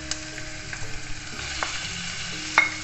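Ground beef frying with onions in a pan, a steady close sizzle under the scrape and clink of a spoon stirring now and then, no voices.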